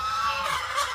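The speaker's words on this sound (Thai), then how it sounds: "ไก่น้อยพี่น้อง" Chickens cluck nearby in a brief, busy burst of clucking.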